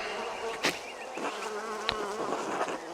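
Bees buzz around beehives in a medieval village in the game Pentiment, a close, continuous insect drone with individual bees passing by in brief louder sweeps, heard alone without talk.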